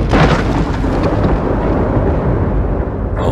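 Scaffolding yanked loose and collapsing in the side-scrolling game Inside, a loud, continuous rumbling crash of metal and debris that fills the whole clip before tailing off near the end.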